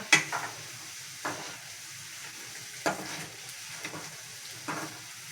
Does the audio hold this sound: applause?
no